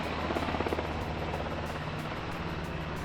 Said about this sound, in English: Oh, look at this, we got Blackhawks coming in.